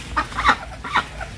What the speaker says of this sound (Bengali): আমার হাঁসগুলো তো আমি বন্দি করে রাখছি